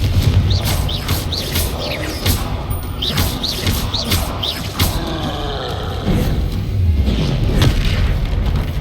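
Confringo blasting-curse explosions in the Hogwarts Legacy video game: a rapid run of loud, close booms and crashing impacts, one after another, with short sharp bursts between them.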